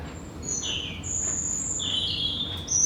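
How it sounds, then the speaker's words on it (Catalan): Birds chirp and whistle at dawn in short, bright calls over a soft, steady background hiss, with a few distinct calls overlapping. "Escolteu els ocells? Es comença a fer de dia."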